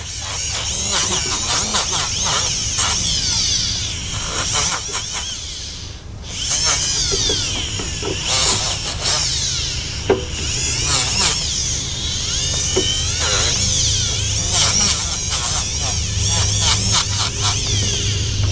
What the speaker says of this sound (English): I'm going to go along with the medium-sized grit Scotch-Brite wheel and kind of smooth it up a little more